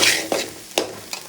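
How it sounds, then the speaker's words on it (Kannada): A spice mixture with turmeric and salt frying in a pan, a steady soft sizzle broken by three quick scraping stirs. "ಎಸ್ ಈಗ ಇದನ್ನು ಶಿಸ್ತಾಗಿ ಫ್ರೈ ಮಾಡೋಣ"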